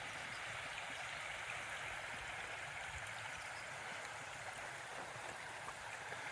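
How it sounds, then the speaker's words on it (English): A small drainage stream with tiny waterfalls trickles down a hillside near a beaver dam, producing a steady, close, continuous wash of running water with no pauses. "there's a pretty little drainage coming down the hill"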